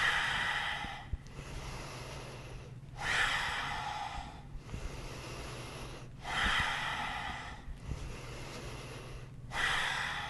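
Slow, deep yoga breaths fill a quiet room, each long audible exhale followed by a pause, repeating in a steady rhythm about every two to three seconds, close and soft.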